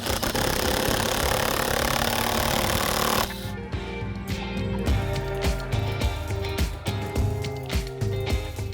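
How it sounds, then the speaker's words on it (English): An impact driver tightens a Titan bolt, with a loud continuous rattling burst for about three seconds, then quieter irregular clicks and knocks as the tool settles. "So now with the impact driver, we can just tighten it down."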